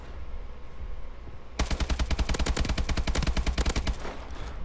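Automatic gunfire rattles in Call of Duty: Advanced Warfare survival mode, a loud, rapid, sustained burst of closely spaced shots that starts suddenly after a quiet moment and runs for nearly three seconds.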